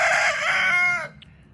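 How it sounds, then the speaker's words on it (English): A rooster crowing loudly and close by, one long drawn-out call that cuts off sharply. "I know it's morning. You can stop crowing."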